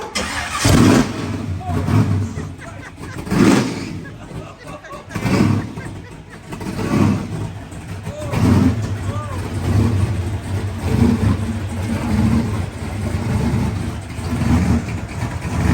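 A 1971 Opel GT engine starts and revs loudly with a full, open, throaty exhaust, surging in bursts over about sixteen seconds while people talk nearby.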